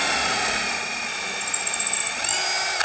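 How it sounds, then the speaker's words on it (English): A power drill bores holes into a wooden floating bar shelf, its steady high whine running close and loud for nearly three seconds before winding down at the end. "Imagine trying to drill these holes in while this is already mounted."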